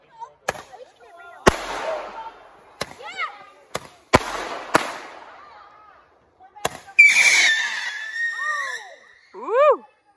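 Fourth of July fireworks go off near a house, a series of sharp, loud bangs and crackling bursts with whistling rockets, while people scream and cheer between blasts.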